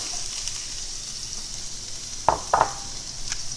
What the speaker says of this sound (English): we still have a little bit of that beef flavor in the bottom of this pan, and that's what we're going to use to start our onions